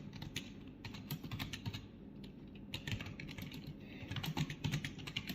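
Fast, uneven keystrokes on a computer keyboard while a ChatGPT prompt for a letter to a bank manager is entered, with close clicking bursts and short pauses between them.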